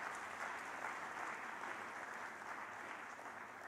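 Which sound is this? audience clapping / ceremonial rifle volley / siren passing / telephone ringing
audience clapping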